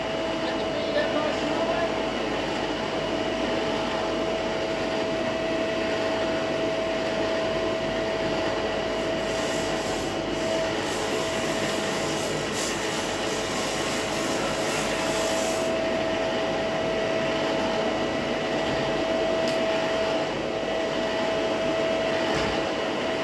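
A Lumberjack DS460VS 18-inch professional drum sander runs laminated timber through it, giving a continuous loud whirring drone with a steady tonal hum and rougher grinding in the middle, close by and without clear speech.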